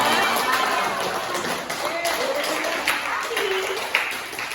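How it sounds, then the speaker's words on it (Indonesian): A classroom of students applauds, brisk continuous clapping filling the room at a lively, even level, with a few voices faintly mixed in. "Ayo aplaus dulu untuk kita semua."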